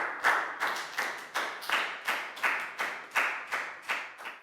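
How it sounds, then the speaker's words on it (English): Steady rhythmic clapping rings through a Year 4 maths class, about a dozen even, sharp claps at a regular pace, each with a short echo, near and clear, with no voices. "A round of applause for everyone for understanding and doing a great job."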